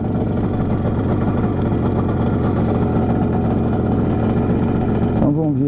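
A 1974 Yamaha RD 350 motorcycle engine runs close up at a fast, steady idle around 2000 rpm, a buzzy continuous drone, with a brief blip near the end.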